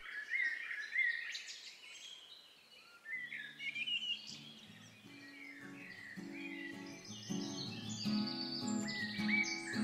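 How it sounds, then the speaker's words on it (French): Birds sing softly in the background outdoors, a mix of chirps and trilling calls that starts sparse and high and grows busier and fuller, with no voices present. "en écoutant les oiseaux en fond sonore pendant quelques secondes"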